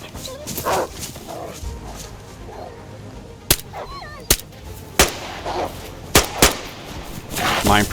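Gunshots from a weapon with a failed improvised silencer in the DayZ video game, five or six loud sharp cracks fired at irregular intervals, with dog barks and yelps mixed in.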